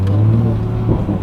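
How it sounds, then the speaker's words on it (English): A 2020 Toyota Supra in sport mode burbles at light throttle, a short, close, low engine rumble with a slight rise and uneven pops near the end. "I'm barely tapping the throttle, and it still like burbles"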